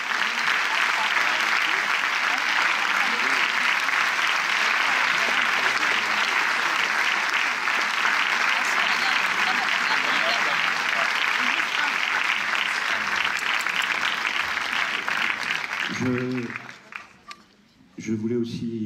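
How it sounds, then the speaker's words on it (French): A cinema audience at a Paris film premiere applauds the film's producers with loud, dense, sustained clapping that fills the room for many seconds, then thins out and fades near the end as a voice starts to speak. "Vous pouvez les applaudir très fort."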